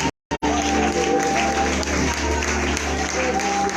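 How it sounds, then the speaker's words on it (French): A church conference audience applauds and cheers for Jesus, a dense, sustained wash of clapping and crowd noise after a brief pause, loud and continuous. "Est-ce qu'on peut acclamer mieux que ça pour Jésus?"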